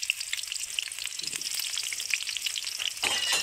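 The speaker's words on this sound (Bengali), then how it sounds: "তো বেরেস্তা করা তেলের মধ্যে আলুগুলো ভেজে নিচ্ছি।" Potatoes frying in oil left over from frying onions, giving a bright, crackling sizzle close by that stays steady throughout, with a few stirring clatters and no talking.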